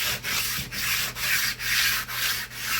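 A hand sander works a sheet of 1/4 inch aluminum in a steady loud rasp, with rhythmic back-and-forth strokes that dip briefly about every half second, and no voices.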